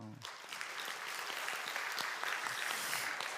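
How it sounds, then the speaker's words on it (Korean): A church congregation at a Sunday worship service applauds the choir. The clapping is moderate and steady and somewhat distant, and it starts after a brief voice at the very beginning. "우리 찬양대 박수 한 번 더 해주세요"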